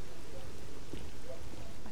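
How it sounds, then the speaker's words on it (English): Steady rain in a S.T.A.L.K.E.R.-style Pripyat game mod, a dense even hiss of falling drops throughout, uninterrupted and moderately loud. "And it's raining again."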